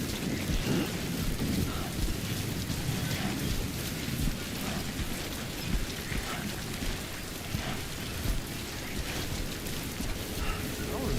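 Heavy rain from a thunderstorm in a video game's dynamic weather, a dense, steady hiss of downpour with low rolling thunder underneath, continuous and fairly loud throughout.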